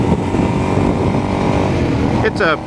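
A motorcycle with a new chain and sprockets runs steadily and loudly close by, its engine drone continuous throughout, with a brief higher-pitched rise near the end.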